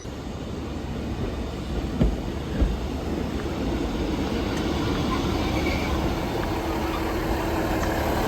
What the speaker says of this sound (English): Here comes the train coming in.